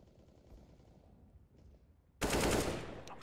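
Counter-Strike: Global Offensive gunfire erupts suddenly as a loud, dense automatic burst after a quieter stretch of low in-game rumble and movement.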